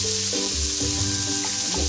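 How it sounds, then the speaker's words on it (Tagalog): Aromatics for ginisang munggo sizzle steadily in a hot pan, a continuous close frying hiss with faint stirring clinks and scrapes now and then, no talk. "Basta ang importante ay papulahin ng mabuti ang ating mga rikadong masarap"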